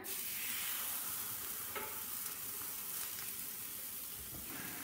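Stuffed chicken breasts filled with onion, cheese, ricotta and spinach fry in a pan, giving off a steady, faint broad sizzle with a few soft clinks and shuffles, close by and unaccompanied by speech.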